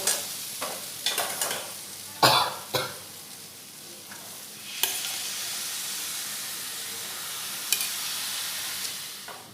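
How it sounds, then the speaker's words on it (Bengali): Potatoes and boiled peas are stir-fried for ghugni, a Bengali street-food dish, giving a steady sizzle broken by several sharp scraping and clattering strokes of a spatula against the pan. "এবার মটরগুলোর সাথেও আলুটা খুব ভালোভাবে কষিয়ে নেব।"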